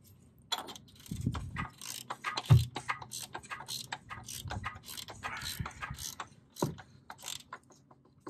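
A ratchet wrench reinstalling and tightening an oil filter adapter during a car oil change, quick bursts of clicking pawl strokes with brief pauses and small metallic knocks, fairly close.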